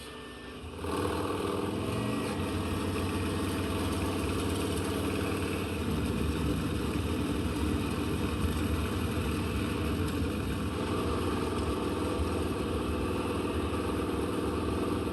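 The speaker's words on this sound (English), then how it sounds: "fired up the second Hubless bike and took off for a spin" A custom hubless-wheel chopper motorcycle engine starts up and runs steadily, a loud, rumbling idle with a deeper surge partway through, continuous with no talking.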